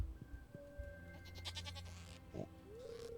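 Several game-style goat bleats from a Stardew Valley farm, short nasal calls repeating at intervals over a soft music bed, moderately loud and without speech.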